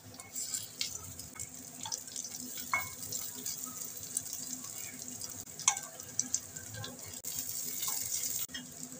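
Quiet sizzling of pakoras frying in oil, with soft watery crackles and occasional small clicks and taps, low and close.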